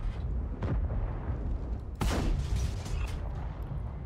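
Tank shells burst in the World of Tanks video game, a continuous roar of battle broken by heavy booms, with one sharp blast early on and a louder explosion midway that fades into rumbling noise.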